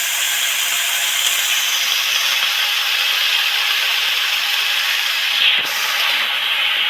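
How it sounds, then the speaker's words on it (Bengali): Vegetables for a hilsa fish curry fry in a pan, a loud, continuous close sizzle and hiss with a brief scrape of stirring near the end, no talking. "সবজিগুলো তো পাঁচ সাত নেড়ে চেড়ে ভালো করে ভেজে নিলাম"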